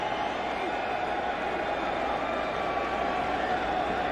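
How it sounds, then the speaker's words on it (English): Roaring home crowd of Raider Nation fans at a Raiders preseason football game, a steady dense wall of stadium noise holding loud and even throughout with no clear breaks. "This crowd noise, this place can really get loud for the visitors."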